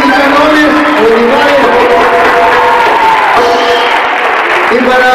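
A dense wash of audience applause and crowd noise fills a live concert at Teatro Municipal 3 de Febrero. It is steady and loud throughout, with voices calling out over it.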